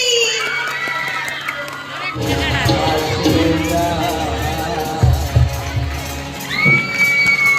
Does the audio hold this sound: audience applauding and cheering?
yes